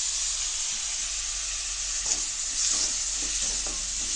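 Onion and tomato with coconut sauté in a pan for hotel-style tomato chutney, a constant loud hissing sizzle with a few soft stirring scrapes toward the end, close and without talk.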